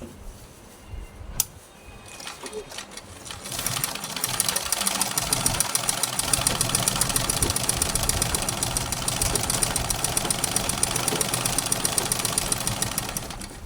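Sewing machine stitching through thick fabric folded four times, a fast, even mechanical whirr that starts faint with some handling noises, then holds steady and fairly loud to the end.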